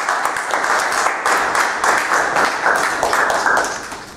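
Loud, sustained applause fills a civil wedding ceremony, many hands clapping steadily for the newly married couple with only slight swells in intensity throughout.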